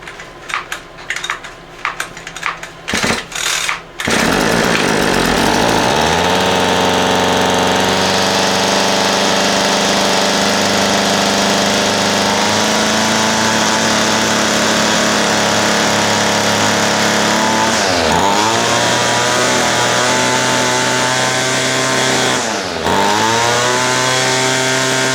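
A few clattering handling knocks, then a small two-stroke engine on a Ryobi gas line trimmer starts and runs loudly for a long stretch, idling poorly, dipping and recovering in speed twice.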